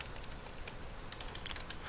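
Keys clatter on a computer keyboard in a quick, soft, irregular run of taps, typing a replication job name in backup software, close but faint, with no talking.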